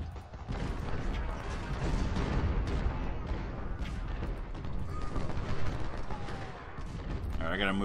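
Cannon and rifle fire from the Civil War strategy game Ultimate General: Civil War rumble as steady, overlapping booms and volleys, with a player talking over the battle.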